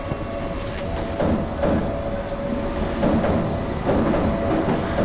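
A Berlin U-Bahn train in the simulation game Trainz 2004 runs on the U9 line with a steady rumbling drone, a faint whine and occasional soft rail clicks throughout.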